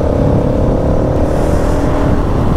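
A KTM Duke 390 motorcycle engine roars continuously at high revs, loud and close, with a steady throaty drone and no talking over it.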